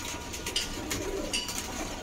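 A domestic pigeon, a male offered for sale, gives soft low cooing, a few faint murmured calls at close range with no talk over it.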